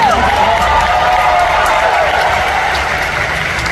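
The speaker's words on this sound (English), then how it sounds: "one more applause for him." Premiere audience applauding and cheering during cast introductions for Indiana Jones and the Dial of Destiny, a dense, steady wash of clapping and crowd noise that stays loud throughout, with a host's voice faintly heard over it.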